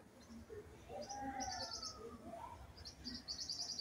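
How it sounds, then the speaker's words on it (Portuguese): Small birds sing in a scenic outdoor spot, bright chirps and trilled phrases repeating close by over a soft background, with no speech. "Olha os passarinhos cantando."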